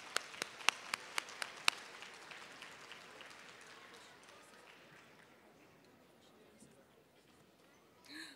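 Students and audience applaud during a school Battle of the Books competition, starting with a few loud, distinct claps and settling into a long, steady wash of clapping that gradually fades, with a brief louder burst at the end.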